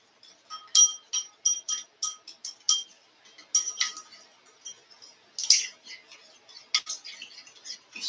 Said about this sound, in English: I'm going to stir that together.